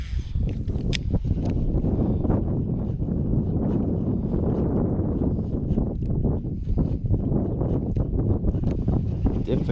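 Strong wind buffets the microphone while a person kayak fishes for bass on a lake, a loud, constant gusty rumble with faint splashes and knocks mixed in.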